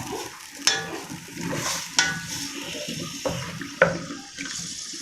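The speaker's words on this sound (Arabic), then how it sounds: "التشويحه الجميله في الزيت" Spaghetti and food sauté in vegetable oil with a wet, hissing sizzle, punctuated by a few sharp clanks of a utensil against the pan, close and steady.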